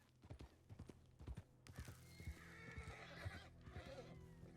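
Horse hooves clip-clop in a steady, irregular run while a horse neighs loudly partway through, set in the Red Dead Western video game amid game ambience.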